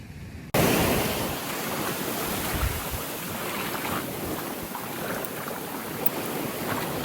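Ocean waves in Bali crash and churn in a loud, continuous roar that bursts in abruptly, buffeted by heavy wind noise on the microphone, with no voices over it.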